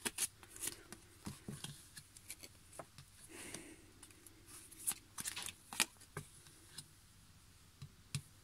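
Tarot cards being shuffled and drawn, giving a run of quiet, crisp riffling and snapping taps in irregular bursts, close and fairly faint, with no talking over them.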